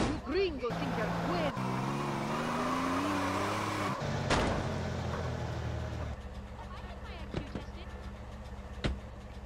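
A somewhat battered car drives in GTA San Andreas Definitive Edition on PlayStation 5, its engine droning and shifting in pitch, with a sharp burst near the middle and scattered clatter toward the end, under background game sound and voices.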